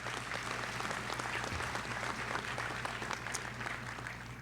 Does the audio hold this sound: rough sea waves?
no